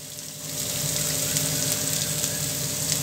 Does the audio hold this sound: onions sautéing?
yes